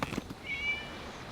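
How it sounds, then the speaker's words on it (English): A short cat meow in the Genshin Impact video game during the Irodori Festival, a single faint thin call after a couple of soft knocks, with quiet background. "It was just a cat."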